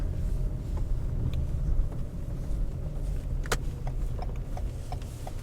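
A car drives up slowly outdoors with a steady, close engine rumble and road noise. A few sharp clicks and rattles cut through the hum, and no voices are heard.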